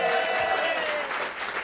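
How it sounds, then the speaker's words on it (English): Steady applause from an evening gathering after a woman is introduced, broad dense clapping with faint crowd voices and cheering woven through, sustained and fairly near throughout. "Round of applause for Carole Vincent."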